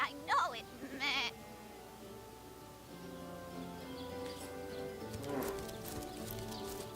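Sheep bleat twice in quick succession at the start in the video game Divinity: Original Sin, followed by quiet ambient game sounds and a faint voice.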